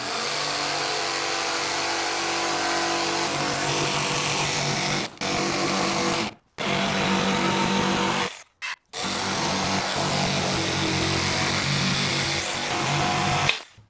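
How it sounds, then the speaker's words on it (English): A jigsaw cuts through walnut stock for a desk with a loud, close, buzzing whine that runs in long passes, broken by a few sharp stops and restarts. "next we're just gonna take the jigsaw"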